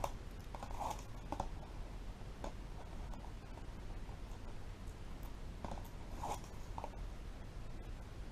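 Double-sided tape having its backing strip peeled away during paper crafting: several quiet, short ripping rasps spaced irregularly over a faint background, with no talk.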